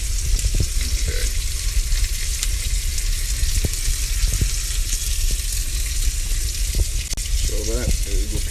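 Steak frying in a pan gives a steady, loud sizzle throughout, with occasional soft clicks and brief low murmurs underneath.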